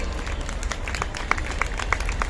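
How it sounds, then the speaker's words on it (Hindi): Women in the audience at a Hindi comic poetry gathering clapping, a scattered mix of individual claps over a low crowd murmur. "इस बात पे महिलाओं की तालियां होनी चाहिए।"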